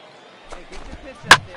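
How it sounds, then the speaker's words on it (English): In MLB 15, a single sharp crack of a baseball bat hitting the ball lands near the end of a quiet moment, with faint murmuring just before it. "Now a ball hit sharply down the line at 3rd."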